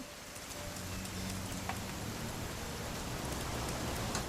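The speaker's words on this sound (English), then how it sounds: "It's gonna rain the whole weekend" Steady rain pattering on surfaces in the video game What Remains of Edith Finch, a dense, even hiss with scattered drip ticks and no voices.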